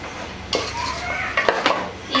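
Chicken coated with turmeric, chili powder, salt and ginger-garlic paste is stirred for an Andhra-style biryani, with a few sharp clinks and scrapes of a utensil against the vessel over a quiet background.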